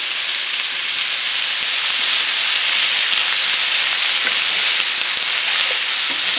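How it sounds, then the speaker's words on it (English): Vegetables and celery sautéing in butter in a pan give a loud, steady, close sizzle with a dense hiss that runs unbroken throughout, with no voices. "the vegetables are in the pan with the butter, and we're going to saute these until tender"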